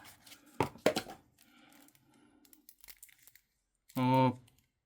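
Crinkly plastic wrap being torn and crumpled off a boxed Yu-Gi-Oh! card deck, a few sharp rips near the start, followed by a quiet pause and a brief voice.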